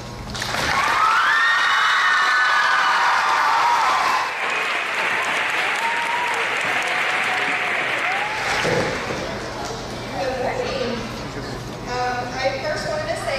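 Audience applause at a school Veterans Day program in a gym, with dense clapping and cheering that fills the room for about four seconds, then tapers into scattered claps and crowd murmur as voices carry over it.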